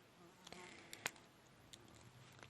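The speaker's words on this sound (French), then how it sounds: "C'est quoi cette mouche?" A fly buzzing faintly indoors in fine weather, with short intermittent whines and a few sharp clicks over quiet room tone.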